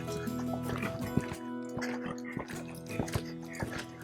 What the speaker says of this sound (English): this is his nice, easy canter